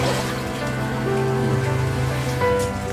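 Loud, steady rain pours down without pause, a constant wash of falling water close by.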